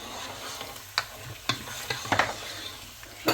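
Deer meat karahi with ginger garlic paste frying in a pan, soft sizzling under sharp scraping spoon strokes as it is stirred, several separate clanks spaced irregularly, close and moderately quiet.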